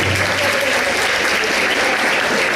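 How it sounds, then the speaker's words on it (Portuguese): A crowd at a prayer group retreat gives loud, sustained applause, dense and even throughout, with a low hum beneath it. "uma salva de palmas para você"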